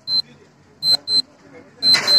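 Digital sports watch alarm, a G-Shock style, beeping in short bright bursts: a single beep, then a pair, then two longer clustered beeps, close and loud over a quiet room.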